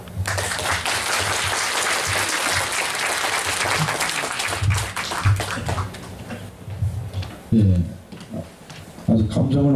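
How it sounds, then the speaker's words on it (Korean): Sustained audience applause at a Korean commemorative event for the 105th anniversary of An Jung-geun's martyrdom, a dense crowd of clapping that fills the room, then thins and breaks into scattered claps with brief speech. "자, 박수로."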